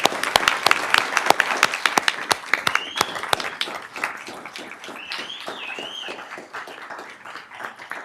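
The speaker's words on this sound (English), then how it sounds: "Let's give them a round of applause." Applause from an audience at a Sacramento City Unified School District gathering, sharp dense clapping at first that thins and softens over about eight seconds, with a faint whistle or cheer mixed in.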